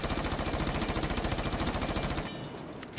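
Rapid automatic fire from an MP5 in Rainbow Six Siege, a loud, steady stream of close shots for about two seconds, then cut off into a brief fading tail.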